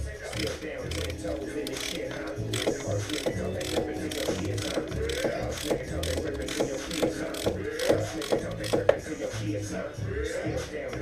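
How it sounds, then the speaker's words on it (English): A ratchet wrench loosens a spark plug on a black Suzuki X90, the plug hole still holding oil; close, steady rapid clicking of the pawl runs throughout in quick bursts, with no speech. "You guys are going to see this spark plug come out"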